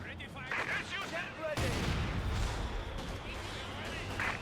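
Mortar and other gunfire in the video game Company of Heroes 2, a sharp blast followed by rumbling battle noise and scattered shots, with a voice talking over it.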